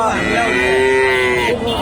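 A Friesian heifer moos in one long, loud, steady call at a cattle market in Bogura, the lowing holding its pitch for nearly two seconds before tapering off.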